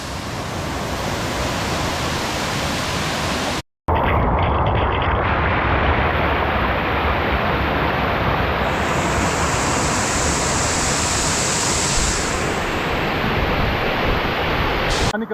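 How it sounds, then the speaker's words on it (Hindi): Jibhi waterfall in Himachal Pradesh, running low after days without rain, gives a constant broadband rushing roar close by, broken only by one brief cut in the sound. "चलो, वन लास्ट डे इन जिबी एट जिबी वाटरफॉल,"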